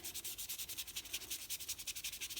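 Brisk, rhythmic rubbing strokes scrape across the textured surface of a watercolor painting, a close, even back-and-forth rasp repeating roughly eight times a second without speech.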